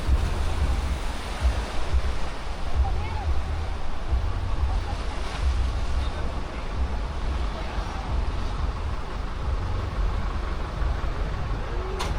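Ocean surf rolls steadily onto an eroding beach at Playa del Carmen, a constant roar of breaking waves mixed with gusty wind buffeting the microphone.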